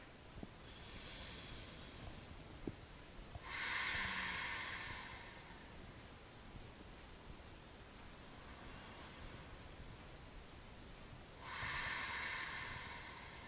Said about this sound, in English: we always start with a few rounds of inhales and exhales